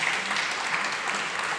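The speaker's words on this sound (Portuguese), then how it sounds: "Você pode dar um aplauso ao Senhor aí" A church congregation applauding the Lord during a sermon, a dense, steady wash of clapping from many hands filling the space at even loudness throughout.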